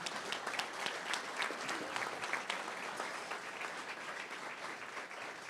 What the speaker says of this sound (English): let's hear another big round of applause for all of them